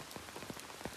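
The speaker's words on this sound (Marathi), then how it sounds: "पाऊस आला, खूप मोठा पाऊस आला जोरात." Heavy rain pours down at a small temple near a cave, a dense, steady hiss with soft patters of drops landing on a surface, fairly faint and with no voices.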